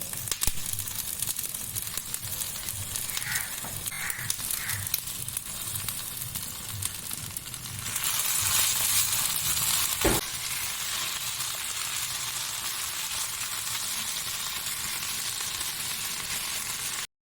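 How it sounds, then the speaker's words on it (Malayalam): Curry leaves roasting in a hot pan give a continuous dry crackle and sizzle, which grows louder and harsher halfway through, with a single clack of a utensil. "ആ കറിവേപ്പില ഒന്ന് നല്ലോണം റോസ്റ്റ് ചെയ്തിട്ട് പൊടിച്ചെടുക്കണം"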